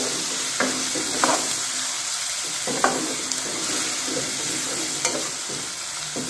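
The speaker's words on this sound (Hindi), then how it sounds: "अब यहाँ पे अदरक डाल दे रहे हैं और इसके बाद लहसुन डाल रहे हैं यहाँ पे। अब हल्का सा इन सभी को भून दे रही हैं।" Ginger and garlic fry in a hot pan for a vegetable curry, giving a steady close sizzle broken by several soft stirring scrapes and knocks.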